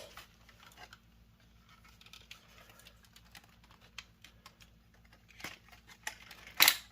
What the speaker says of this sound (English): Nice clicking joints.